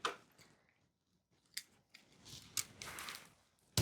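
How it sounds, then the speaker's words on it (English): Scissors snip through plastic packaging on a diamond painting kit, giving a few faint, close crisp cuts and crinkles separated by quiet gaps. "Let's go ahead and cut this open."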